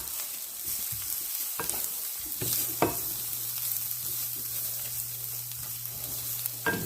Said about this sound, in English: We're going to go ahead and add this Southwest spice blend in here. And we're going to mix this up.